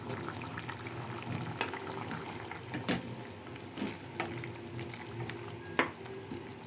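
Chicken and drumstick curry simmering in a covered pot, a steady low bubbling broken by occasional soft pops and small clicks, faint and continuous with no talk.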